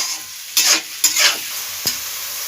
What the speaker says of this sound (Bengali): এটা ভাজা হোক